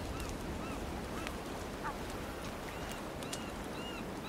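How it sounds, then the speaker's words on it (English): Seagulls call in the video game Sons of the Forest, several short squawks and cries scattered over a steady bed of wind or surf noise, moderately loud, without talking. "I believe the seagulls have taken our meat."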